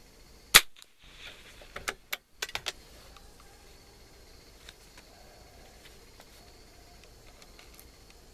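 Shots at a shooting range aimed at pennies: one sharp, loud crack near the start, followed by a few smaller, quicker pops, then quiet range background.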